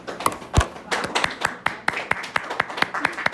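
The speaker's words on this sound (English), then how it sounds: "Why are we clapping?" A classroom of students claps unevenly, with about a dozen sharp, separate claps in a loose rhythm and a brief voice in the room.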